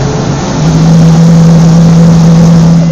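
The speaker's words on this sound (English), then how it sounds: "Revving up the engine." A Cessna Grand Caravan plane engine revving before takeoff, a loud, steady droning roar with a low hum that rises and holds, heard close as from inside the cabin.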